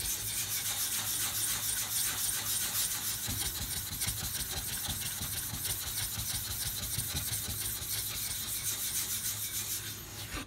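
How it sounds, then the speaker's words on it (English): A sharpening stone is rubbed back and forth across a diamond plate during knife sharpening, giving a steady, continuous gritty scraping that runs unbroken and fairly loud from start to finish with no one talking. "if you've got a diamond plate, just rub it back and forth"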